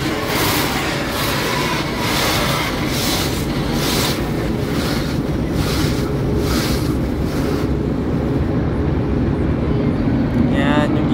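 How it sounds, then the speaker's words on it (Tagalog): Loud, steady rushing spray of high-pressure car wash water jets hitting a car, with pulsing bursts as the stream sweeps across the surface, then a brief change near the end. "Bomba na ng tubig."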